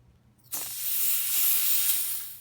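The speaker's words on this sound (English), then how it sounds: "now I'm going to hit it with some compressed air and see what I could do just to get it completely dry" Compressed air sprayed onto a fidget spinner bearing to dry it, a sudden loud hiss that starts after a brief silence and holds steadily until the end.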